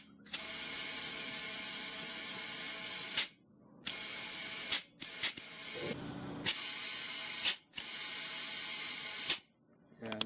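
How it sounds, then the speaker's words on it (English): An air pump inflates a car tyre mounted on a drift skid rim in a backyard, giving long loud steady hissing bursts separated by short pauses, with a few brief mechanical clicks between them. "I can just air up my tyres and pump them all up"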